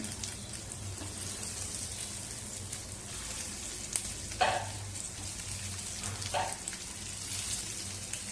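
Mixed-vegetable vadi pieces sizzle quietly in tempering oil over medium heat, a steady, rain-like hiss with a couple of brief louder pops, close but low in level, no voices.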